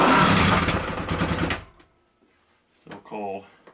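KTM XC-W Six Days enduro motorcycle engine, cold and custom modified, revved hard for over a second with a loud, rough blare, then dropping away to near silence before a brief voice is heard.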